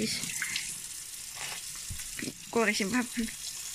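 Tap water runs and splashes in a kitchen sink as potatoes are washed for cooking, a steady close wash with short splashy bursts while children talk nearby.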